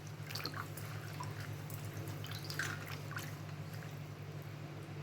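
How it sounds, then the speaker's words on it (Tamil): Poovarasan leaves being washed in water before making kozhukattai, with soft intermittent splashes and drips over a steady low background hum. "முதல்ல நம்ம இலையெல்லாம் நல்லா கழுவிக்கலாம்"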